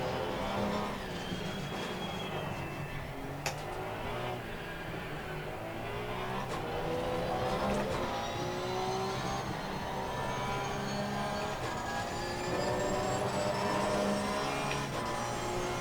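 Race car on cold dry slick tires lapping in Assetto Corsa Competizione, an engine whine rising and falling through gear changes, steady and moderately loud with no talk.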